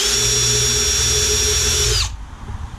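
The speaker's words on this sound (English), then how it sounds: "this is called a countersink, just to make it look a little bit better on each end" Power drill spinning a countersink bit into the end of a rustic wooden walking stick: a steady, high whine held for about two seconds that winds down abruptly and stops, leaving quiet room noise.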